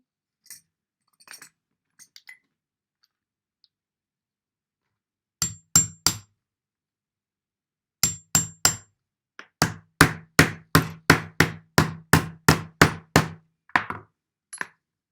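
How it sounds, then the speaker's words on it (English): A hammer drives nails partway into a timber stick in a preschool craft setting. A few faint early taps lead into a quick, steady run of about fifteen close, crisp knocks that ring slightly metallic. No one talks. "Just going to hammer them in, not too far."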